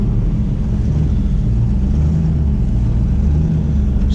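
Pontiac Trans Am with an electrical fault driven at night with lights off, its engine giving a loud, steady low rumble throughout with slight revving swells and no talk.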